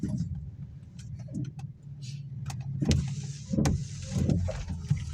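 A car rolls slowly into a school parking area on a rainy morning, its low engine rumble steady inside the cabin while small clicks, thumps and creaks pop up over it.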